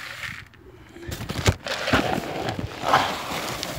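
Breeding pigeons in a loft coo softly in low murmuring calls, with a few scattered fluttering and shuffling sounds around them.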